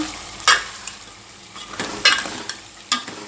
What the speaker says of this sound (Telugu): కూరను కలియబెట్టుకోవాలి